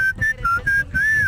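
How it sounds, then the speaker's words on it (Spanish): A person whistles a short, bright tune of several clear held notes with brief gaps between them, close by and loud at a live music show, with low background noise underneath. "No me sale el chiflito, échale el chiflito."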